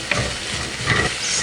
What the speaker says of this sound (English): Once that garlic has sauteed for about a minute, I'm going to add the carrots.